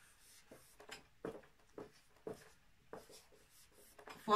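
Chalk or marker taps and scratches on a board in short, quiet bursts as Arabic words are written, spaced irregularly with brief pauses between strokes.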